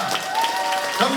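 Applause from supporters at the opening ceremony of a campaign office for a Reform Party candidate in Hwaseong, a brief steady patter of clapping mixed with voices.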